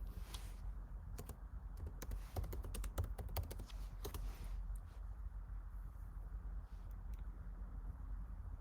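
Quick bursts of typing on a computer keyboard, clusters of close, crisp key clicks separated by short pauses, fairly quiet over a low background hum.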